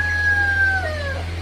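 A single drawn-out crowing call from a rooster on a broiler chicken farm in intense heat, close and clear over a low steady hum.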